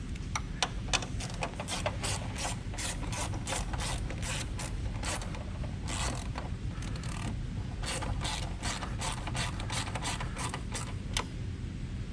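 A ratchet clicks in steady, rapid bursts while snugging a bolt during an oil separator install on a 2024-2026 Ford Mustang EcoBoost, close and fairly loud over a constant low background hum.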